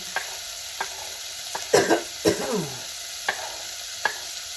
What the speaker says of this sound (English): Now I'm just going to go ahead and saute all my veggies